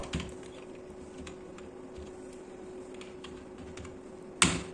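A user name being typed on a computer keyboard while setting up a company in Tally ERP 9, with soft scattered key taps near and quiet, ending in one sharper key strike, no talk.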